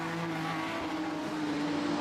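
Production sedan race cars at Gympie Speedway, engines droning at a distance around a hairpin corner, a steady muffled roar with a faint pitched whine, no voices.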